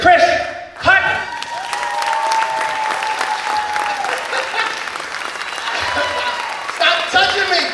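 A comedy club audience applauds comedian Chris Haughton, loud sustained clapping that swells at the start and again near the end, with someone talking over the crowd throughout.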